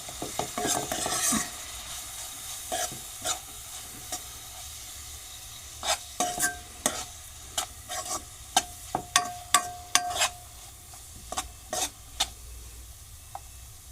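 Onion, tomato and spices fry in a pan with a soft background sizzle, broken by irregular scraping and tapping strokes of a spatula stirring the mixture, clustered in bursts and growing more frequent later.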